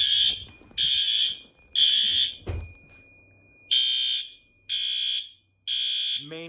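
A loud fire alarm horn blares in repeated bursts during a building fire alarm test, roughly one second each with short gaps, close and dominant, with a brief clatter partway through.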